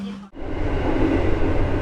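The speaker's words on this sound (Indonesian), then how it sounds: "Ini ada lokomotif yang tadi digunakan oleh kereta api Pandayan ya, sedang dirubah arah lajunya" A Parahyangan train locomotive rumbles steadily nearby as it is turned around to change direction, a broad, dense mechanical roar with no voices, after a brief lower hum at the start.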